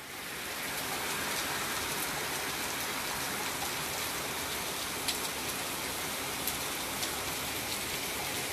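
Steady rain patters densely on surfaces outdoors, an even continuous hiss with occasional sharper drips, close and unbroken, with no talk.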